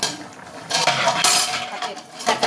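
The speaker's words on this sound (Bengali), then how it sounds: "এবার ঢাকাটা খুলি" A metal lid comes off a cooking pot of potato and fish curry, with a few close clanks and clinks of metal on metal in quick succession.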